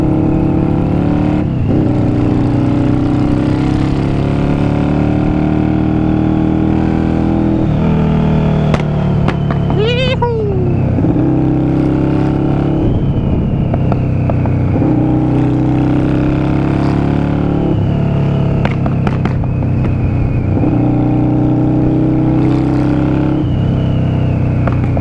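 A Yamaha Virago 535 motorcycle engine runs steadily and close, revving up and easing off through smooth gear changes, a continuous loud mechanical drone with no talking.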